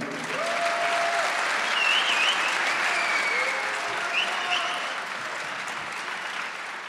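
Sustained audience applause at a religious debate on Trinity versus Tawhid, a broad steady wash of clapping from a large hall that slowly fades toward the end, with faint whistling tones over it.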